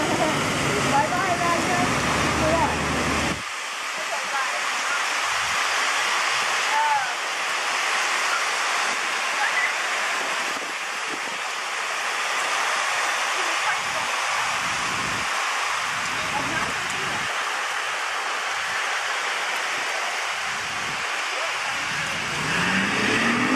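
Heavy rain pours down on a flooded street in Costa Mesa, California, a dense continuous wash of falling and rushing water with passing traffic splashing through, steady and loud throughout.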